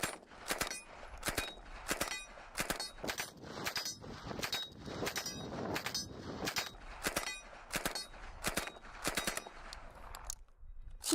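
A PPSh-41 World War II submachine gun fires at a silhouette target 15 to 20 meters away: rapid full-auto bursts of loud, sharp cracks with brief pauses between strings, ending in a short silence.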